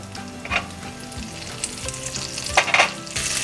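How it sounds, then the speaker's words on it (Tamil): Cinnamon and cloves sizzle in hot oil and butter in a pan while cooking a mattar paneer masala, a steady crackling fry with light scraping and stirring scattered throughout. "இப்போ நம்ம இது கூட பட்டை, கிராம்பு எல்லாத்தையும் சேர்த்துக்கலாம்."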